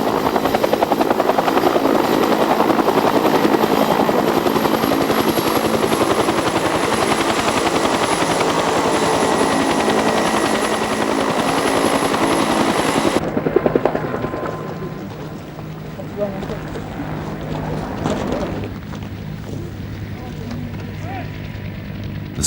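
Helicopter landing an infantry squad on a rise, its rotor and engine roaring loud and steady up close, then dropping to a lower, rougher drone while a voice talks over it.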